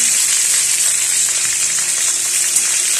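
Tilapia frying in a hot pan with oil, a steady, loud, close sizzle that stays even throughout with no talking.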